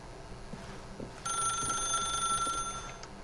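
In The Stanley Parable video game, a telephone bell starts ringing partway through, loud and steady with a bright metallic trill over faint background noise.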